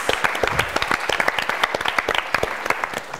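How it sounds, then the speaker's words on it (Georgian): An audience at a university student book-quiz competition breaks into brisk, crisp applause, with sharp individual claps standing out close by for several seconds. "აპლოდისმენტები ტრიუმფალურ ჭაღს და ანდურილს."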